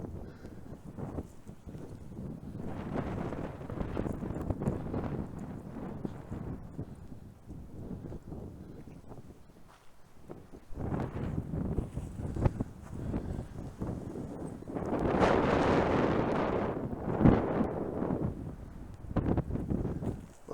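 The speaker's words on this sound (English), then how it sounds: "The wind gust are too rough for the listeners." Outdoors on a chilly day, wind buffets the microphone in long, rough gusts, a low rumbling roar that swells and eases repeatedly, loudest in a strong burst near the end.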